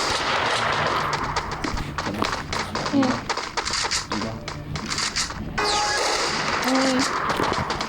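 Repeated gunshots from a newly updated weapon in the mobile game Free Fire, sharp rapid cracks in bursts over game sounds and someone talking.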